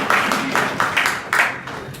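Class 11 and 12 students applauding in a school classroom in short, uneven bursts of clapping, several rounds that swell and fade over about two seconds, fairly close.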